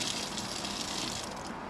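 Water pours out of a tipped container with a vent button pressed, giving a steady, even rushing gush without glugging, fairly soft and continuous with no voices.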